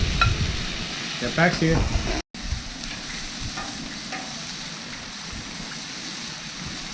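Chicken souvlaki sizzles steadily in a pan, a loud continuous frying hiss with a brief burst of someone talking early on and a short cut in the sound.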